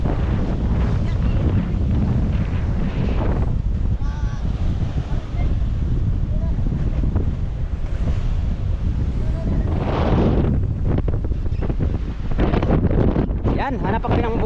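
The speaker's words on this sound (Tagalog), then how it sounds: "Gawa ng malakas ang hangin at saka alon." Strong sea wind roars and buffets the microphone aboard a slow-moving fishing boat in the West Philippine Sea, with waves washing beneath and voices talking intermittently over the din.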